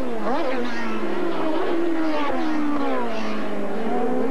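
Formula Atlantic (Players Toyota Atlantic championship) race cars pass at the Molson Indy street circuit in Toronto, engines screaming loudly with rising and falling pitch as they sweep by in close succession.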